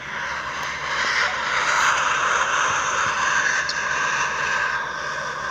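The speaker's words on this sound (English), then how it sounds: "It would be very loud to hear this volcanic eruption." A Hawaii volcanic eruption recorded close up gives a continuous, loud, broadband roar like a jet engine, steady and unbroken throughout.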